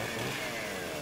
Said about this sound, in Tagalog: Narinig ko yung chainsaw.